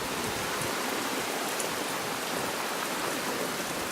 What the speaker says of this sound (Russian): А сегодня вот дождь.